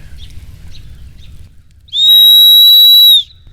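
An old child's toy whistle, a dug-up find, gives one loud, shrill, steady tone lasting just over a second after a stretch of quiet low rumble.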